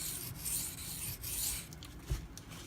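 Benchmade Mini Ritter Grip knife blade being sharpened to grind out a chip, giving a steady close rasping rub that runs continuously with a brief louder scrape near the end, no talking.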